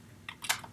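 A few quick keystrokes on a computer keyboard as numbers are typed in, close and crisp, two or three taps clustered within a second with no talk.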